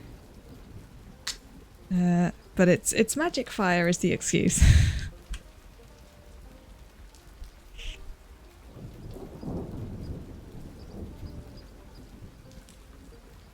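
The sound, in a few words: rain and thunder weather in a video game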